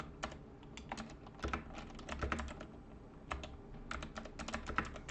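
Rapid computer keyboard typing with bursts of keystrokes and short pauses, including Shift+Enter presses, close and moderately loud with no talking.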